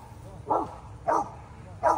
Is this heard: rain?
no